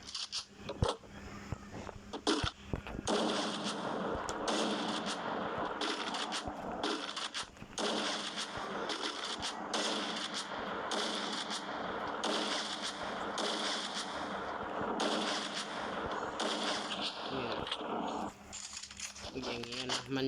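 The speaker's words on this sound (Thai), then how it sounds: "สับส่องยิงสับส่องยิงสับอย่างนี้เร็วๆนะ" Rapid gunfire from a scoped weapon in a shooting video game, repeated shots fired in quick succession over continuous game noise, with someone talking throughout.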